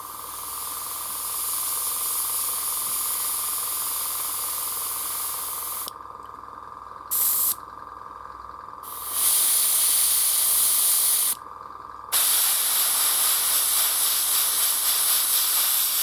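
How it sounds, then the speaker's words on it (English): An airbrush sprays paint onto a Warhammer Razorgor miniature, a close steady hiss that cuts out and restarts several times in short bursts of differing length, with no talking. "With the airbrush, it's really ideal because you can blend the fleshy bits into this fur"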